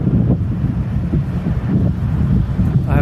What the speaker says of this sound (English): It's really hot and windy.